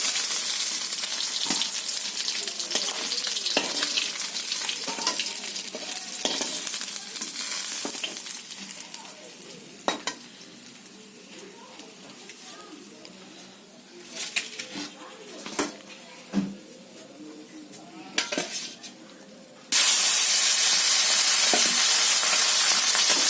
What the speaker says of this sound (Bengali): মাছটা আমার ভাজা হয়ে গেছে, আমি তুলে নিচ্ছি